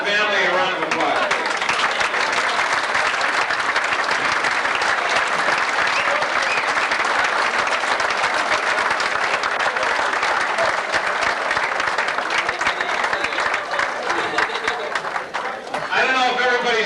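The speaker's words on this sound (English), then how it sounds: "So let's all give Thelma and the family a round of applause." Loud, sustained applause from a crowd at a 1985 retirement party for a coach, a dense roar of clapping that fills the room for over fifteen seconds before fading, with a voice near the start and end.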